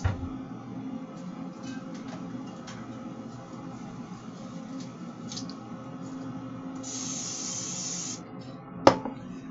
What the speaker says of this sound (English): I still don't believe I'm supposed to spray these silicone things, but I still don't know for sure. So I spray them.